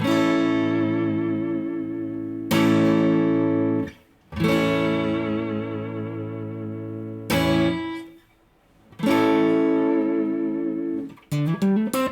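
Clean electric guitar through a tube amp into a Vintage 30 speaker with no pedals, sustained strummed chords ringing out with short pauses between, warm and undistorted, then a brief flurry of notes.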